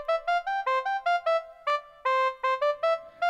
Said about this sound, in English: that was that oboe sound.